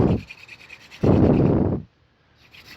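Warm-up strokes of a horseweed spindle hand drill on a white pine board: two close, loud bursts of dry rasping friction, the second longer, then quiet.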